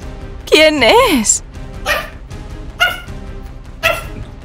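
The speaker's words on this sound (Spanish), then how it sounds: "Pero tú, ¿por qué estás ladrando tanto?" A dog yelps and whines in a rising-falling cry, then barks three times at steady intervals, close and loud.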